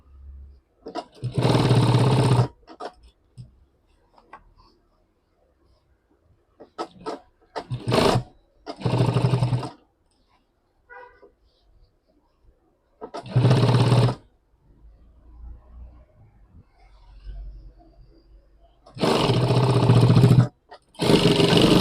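A sewing machine stitches a pant pocket that is being turned into a bag, running in several loud bursts of a second or two each, separated by quiet pauses with faint handling noises.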